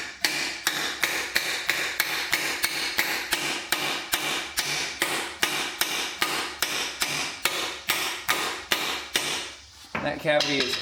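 Hammer punching a tapered pin into the arm of a Bobcat loader, loud close metallic blows struck at a steady, even pace about twice a second for ten seconds before a short pause and a few final hits.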